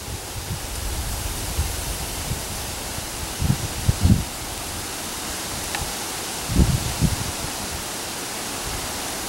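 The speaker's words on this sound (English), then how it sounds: "if I'm quiet for just a minute, you can probably hear the wind blowing" Steady broadband wind noise rushes continuously outdoors, with a few brief low gusts buffeting near the microphone.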